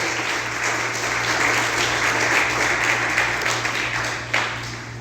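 A church congregation gives a round of applause during a sermon, a continuous full-room clapping over a steady low hum, with a few sharper claps near the end.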